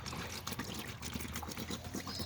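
Rainwater trickles and pours close by while tomato plants in the ground get a good watering, a soft, uneven splashing and dribbling that stays faint and steady, with no voices.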